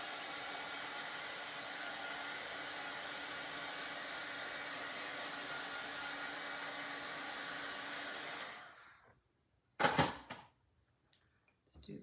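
A hair dryer blows a steady, loud, close whoosh for about eight seconds while it dries a base coat of paste paint. It then cuts off, and a brief clatter of handling follows.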